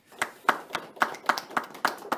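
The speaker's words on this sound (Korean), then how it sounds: "큰 박수 맞아주십시오." Audience at a Korean housing and construction forum seminar clapping as a speaker is introduced, about eight separate claps in a slow irregular rhythm, fairly faint, with no talk over it.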